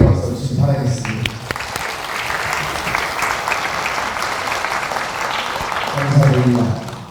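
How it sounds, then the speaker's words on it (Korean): Dense applause from a residents' meeting audience welcoming city council members, a thick sustained wash of clapping filling the room, with someone speaking over its start and end. "환영의 박수 주시기 바라겠습니다"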